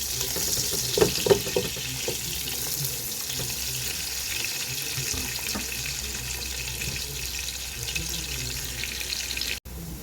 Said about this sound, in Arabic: طبعا احنا مش هنحرق البصل، احنا بس هنحمره كويس جدا